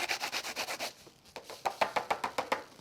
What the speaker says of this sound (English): Burnish it into place